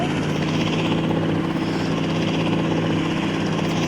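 A helicopter flies in the mobile game Indian Bike Driving 3D, its steady rotor and engine drone holding at a constant loud level throughout with no pauses.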